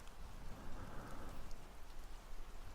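Autumn rain falls in a soft, steady patter close by, quiet and even throughout, with no voices over it.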